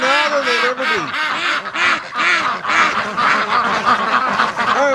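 A flock of ducks, including Muscovy ducks, quacking loudly and repeatedly in a snowy backyard, overlapping raspy calls close by with a person's voice mixed in.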